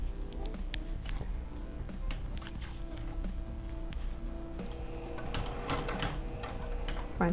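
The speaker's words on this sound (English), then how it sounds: "we're going to sew around this curve right here" A sewing machine stitches around a curve in activewear fabric, producing a rapid, mechanical rattling that runs in short bursts with brief pauses, moderately close and without speech.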